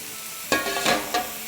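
Lebanese kebabs hit a hot platter already coated with sauce, giving a few short, close bursts of sizzling and sputtering within a second before it settles quickly.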